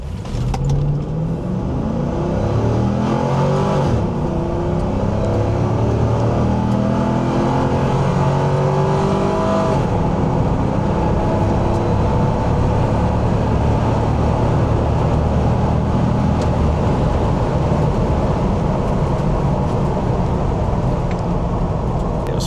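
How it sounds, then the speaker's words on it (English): Pontiac WS6 pulling hard from a standstill, the engine note climbing steadily through the gears with loud, continuous exhaust roar and no talking. "I'm just gonna get a quick little pull from 0."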